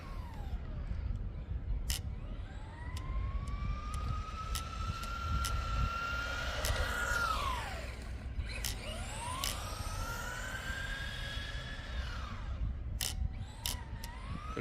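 Tamiya TT02 radio-controlled car at full throttle on 75% power, its electric motor whining up and down in pitch as it speeds past, with sharp clicks and a constant rumble of wind.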